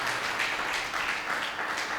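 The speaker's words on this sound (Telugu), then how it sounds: "గట్టిగా చప్పట్లు కొట్టాలి బిగ్గరగా." A church congregation claps loudly together in a sustained, dense burst of applause. The crowd noise is close and continuous, with a slightly pulsing rhythm running through it.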